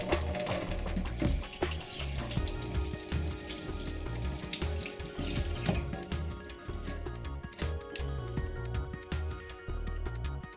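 Rock molds are washed under running water with soap, bringing a continuous tap stream splashing into a sink with intermittent drips and handling noises, close by and without speech.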